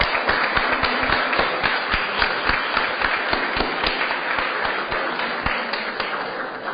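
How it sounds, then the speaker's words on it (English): Audience applause at a city Board of Aldermen meeting, a dense, steady round of clapping with sharp individual claps standing out, loud and close, lasting throughout without talk. "Let's give the Alderman a round of applause."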